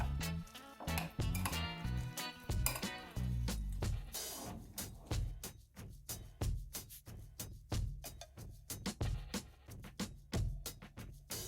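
Spoon stirring salted yogurt sauce in a bowl, a fast run of sharp clinks and scrapes against the dish, close and steady throughout with no talking.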